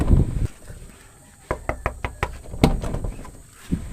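Knocking on a door in a home setting: a short burst of sharp raps, a pause, then another quick run of knocks, fairly close and alone without talk.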